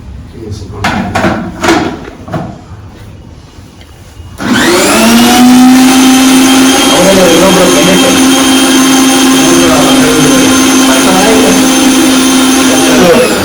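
A mixer grinder (mixie) switches on after a few seconds of kitchen clatter and speech, then runs with a loud, steady whine close by until the end.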